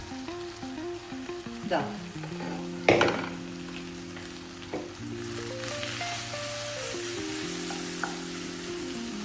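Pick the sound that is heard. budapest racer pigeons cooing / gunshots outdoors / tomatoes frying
tomatoes frying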